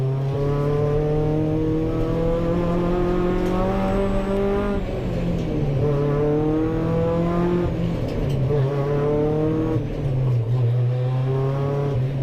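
Hot hatch race car engine droning loudly and continuously from inside the car at a Rockingham race start, pitch climbing and dropping through gear changes.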